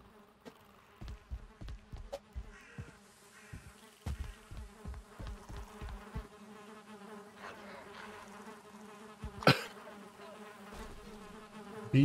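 Bees from a beehive in the game Valheim buzz steadily and close, a continuous droning hum with faint background game sounds and occasional soft thumps.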